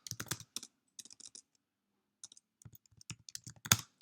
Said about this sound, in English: after you type your response